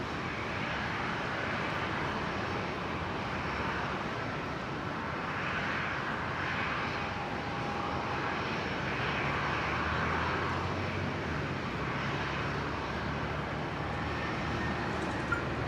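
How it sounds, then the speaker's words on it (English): A Qantas Airbus A330 takes off from runway 19 left at Brisbane Airport, a broad, steady jet roar heard from a distance, holding at a constant level throughout. "Now the Qantas 330 going to be departing off of 19er left."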